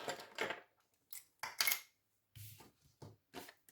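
Scissors cut out a paper card holder for a Jeu des 7 familles card game with several short, crisp snips and rustles, close up, separated by brief silent pauses.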